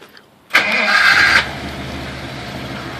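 A 1955 DeSoto's engine cranks and fires up after a short quiet moment, a loud, close burst that holds for about a second, then settles into a steady low idle.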